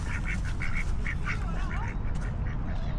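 A bird gives a run of short, nasal, quack-like calls in quick bursts, moderately close, over a constant rumbling outdoor background.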